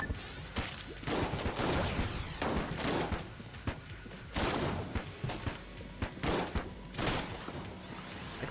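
Repeated shotgun blasts from the Zilla shotgun in the Enter the Gungeon video game, a rapid run of loud, punchy shots with thuds in between, spread steadily across the whole stretch with no talking.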